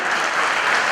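Wedding guests clap loudly together in honour of the groom's parents, a dense, even burst of applause from a nearby crowd with no voices over it.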